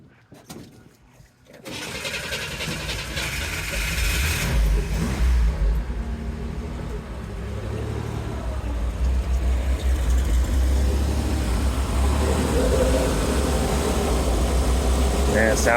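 A 1964 Chevrolet Corvair Monza engine starts up and runs at a steady, loud idle with a smooth mechanical hum, while people talk nearby.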